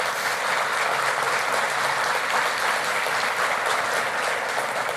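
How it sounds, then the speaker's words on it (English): Steady, even applause fills a hall at Davenport's 2025 State of the City address as the audience claps for city officials, a sustained wash of many hands from near and far with no voices over it. "Please give them an outstanding applause."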